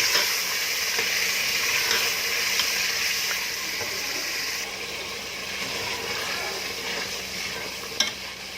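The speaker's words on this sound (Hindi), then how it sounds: "तो अब हम इसमें दही ऐड करेंगे और इसको थोड़े टाइम के लिए मज़ीद अच्छी तरह से भुनाई करेंगे इसकी।" Mutton curry with yogurt fries in a pot, a bottle gourd salan in the making. A loud, continuous sizzling hiss fills the whole stretch, with occasional soft stirring scrapes and one small knock near the end.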